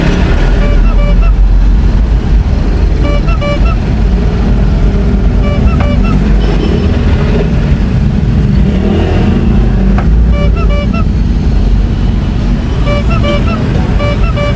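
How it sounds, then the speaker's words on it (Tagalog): Dense, loud highway traffic roars continuously on Quirino Highway, engines rumbling and passing with occasional horn toots, no pauses throughout. "Traffic."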